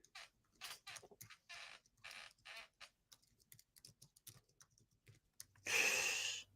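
Keyboard typing, fast clicky keystrokes in uneven bursts at close range, ending in a louder, brief noisy burst.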